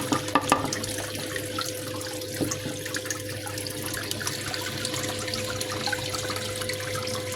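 Water rushes steadily through a gold prospecting sluice, a continuous close gushing and splashing flow with a constant background hum.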